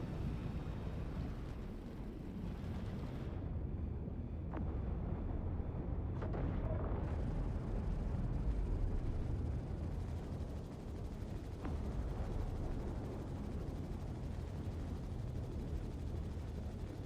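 Missile impacts and explosions in an aircraft combat video game, a dense continuous roar of blasts and rumbling noise with a few sharper bursts, loud and sustained without any talk.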